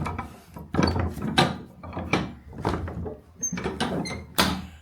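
An old wooden door in the dark being handled and rattled, found locked: repeated knocking thuds, squeaks and clattering of the handle and frame, close by and continuous over several seconds, with no talking.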